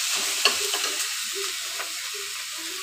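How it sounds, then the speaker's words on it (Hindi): Masala frying and roasting in a pan, a soft steady sizzle with a few light stirring clicks, close and fairly quiet. "अच्छे से भून ले रहे हैं।"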